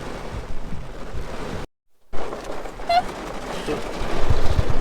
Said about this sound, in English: a storm comes in and it can be pouring